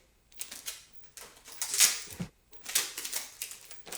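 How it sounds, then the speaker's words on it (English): Packing tape being pulled off a roll and pressed around a folded wrap covering a kitchen knife blade, a few sharp ripping and crinkling bursts close up, with no talk. "Hit it with a piece of tape."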